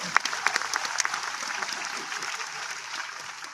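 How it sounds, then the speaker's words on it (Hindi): A school's hundred-year celebration audience breaks into brief applause, a dense patter of claps that thins out over a few seconds. "पर तालियां बिना कहे नहीं बजाते हुए"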